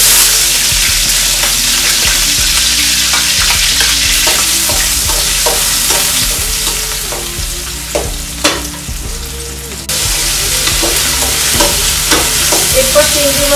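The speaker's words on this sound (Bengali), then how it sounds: "এরপর চিংড়ি মাছটা আর পেঁয়াজটা একটু কষিয়ে নিচ্ছি, এক মিনিটের মতো একটু কষিয়ে নিচ্ছি" Shrimp and onion paste frying in hot oil for raw banana curry, a loud close sizzle with repeated spatula stirring and scraping, a rumbling hum underneath, and a brief dip in level near the end before the frying returns.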